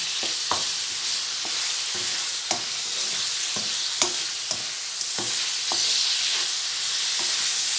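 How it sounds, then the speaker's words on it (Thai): Fresh shrimp stir-fried in a pan with added salt: a steady, loud sizzle with a broad hiss, broken by sharp scrapes and clacks of the spatula against the pan at irregular intervals. "เติมเกลือลงไป ผัดกุ้งให้สุกก่อนเนาะ"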